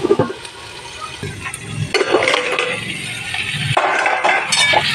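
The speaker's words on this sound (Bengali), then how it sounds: "পেঁয়াজের সাথে সাথে আমার পটলগুলো ভাজা হয়ে যাবে" Pointed gourd and onions fry in a pan with a restless sizzle, mixed with scraping and clinking as a spatula stirs them in uneven bursts, and no one speaks.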